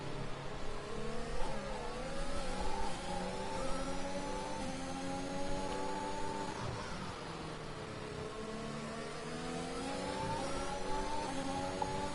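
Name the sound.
race cars' engines in F1 2021 video game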